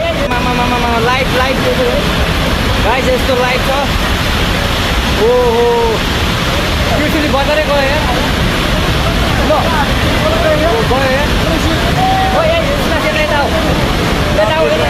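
Floodwater roars in a dense, unbroken rush after a flash flood in Nepal that swept away an iron bridge, loud and steady throughout, with a voice talking over it.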